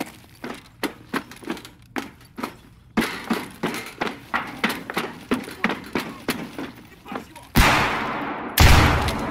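Rapid volleys of gunshots with sharp, evenly spaced cracks ring out in a video game test of new RIP slug ammunition, then two loud sustained blasts finish it, and a voice talks faintly beneath.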